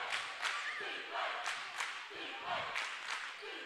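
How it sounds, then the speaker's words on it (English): Crowd at a Friday night high school basketball game in a gym, cheering and shouting in repeated swells as the noise builds in intensity, fairly distant and reverberant. "you can hear the crowd picking up the intensity"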